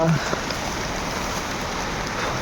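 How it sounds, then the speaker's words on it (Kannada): Heavy rain pours steadily in a constant hiss of drops striking surfaces, close and even throughout, with a brief voice at the start. "ಸಿಕ್ಕಾಪಟ್ಟೆ ಮಳೆ ಗೈಸ್"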